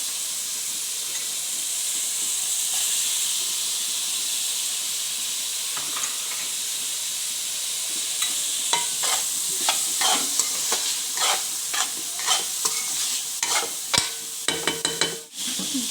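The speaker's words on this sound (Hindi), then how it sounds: "जी प्याज भी कुक हो रहा है" Onion frying in a pan with leftover rice, a steady hissing sizzle that grows busier as stirring begins, with rapid spatula scrapes and knocks clustering toward the end.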